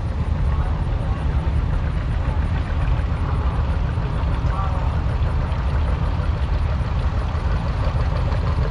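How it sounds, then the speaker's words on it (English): A 1955 John Deere 50 tractor engine idles with a low, steady throb in a parade, loud and close, running continuously without revving. "Next tractor is a 1955 John Deere 50"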